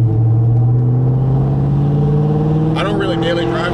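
A 1999–2004 Mustang 2V engine fitted with Pacesetter long tube painted headers rumbles loud and close with a steady low drone, its pitch shifting slightly near the end as a voice talks over it.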